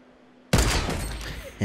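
Gunfire in Fortnite Battle Royale, a sudden loud burst of rapid shots after a quiet moment, followed by a second sharp report at the end.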